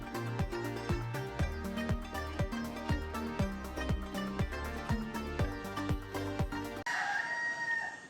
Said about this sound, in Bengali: মুরগি মোরগ সব ডেকে যাচ্ছে